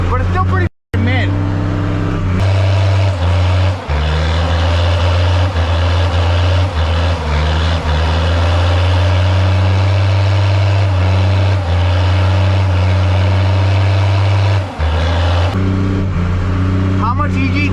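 A 1979 Ford truck with a naturally aspirated 12-valve diesel engine runs loud and steady, its deep idle droning close by throughout, with a brief cut near the start and slight shifts in pitch.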